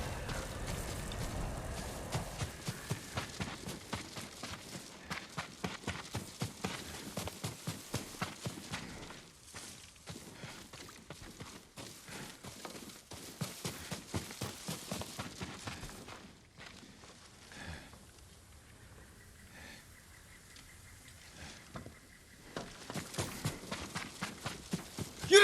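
A horse in the Ghost of Tsushima video game, its hoof clip-clops drumming in a steady rhythm through most of the stretch, then thinning out near the end amid quieter game ambience.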